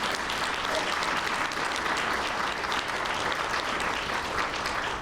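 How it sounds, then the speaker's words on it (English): Steady applause from an audience at a career center ribbon-cutting ceremony, a dense continuous wash of many hands clapping at even loudness for the full stretch. "You can clap for that."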